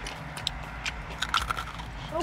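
Bites into crunchy KFC Wicked Wings fried chicken, a few sharp close crackles and chewing crunches scattered over quiet room tone, with no talk during the bites.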